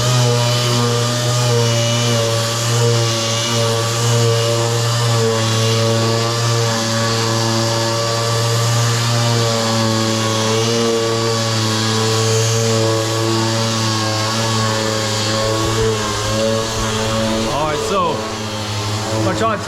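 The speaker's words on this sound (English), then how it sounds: "I'm trying to talk over top of this eccentric compressor, and look, my whisper compressor is just kicked on over here" An air compressor runs in a garage with a steady, loud droning hum and strong low pitched tones throughout, continuous and close.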